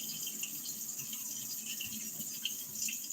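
Tap water runs steadily while rice is rinsed, a faint, continuous hissing flow with small splashy flickers and no voices.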